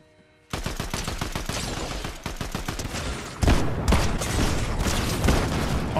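Rapid assault-rifle gunfire in Fortnite, a dense burst of close shots after a brief quiet start, then heavier overlapping fire and booms continuing loud to the end.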